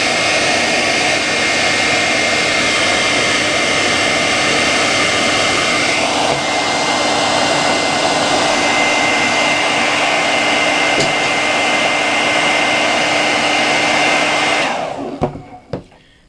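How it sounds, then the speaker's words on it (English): A hair dryer blowing hot air onto the edges of a carbon fibre effect skin on a Sony Xperia Z1 phone, a loud, steady whooshing drone for about fifteen seconds that shifts slightly in pitch before cutting off abruptly. "Now this is where you're going to need your hairdryer."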